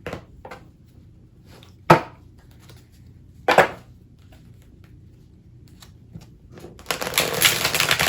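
Tarot cards being shuffled up close: a couple of sharp isolated slaps and taps, then a dense, rapid riffling burst toward the end, with no voices.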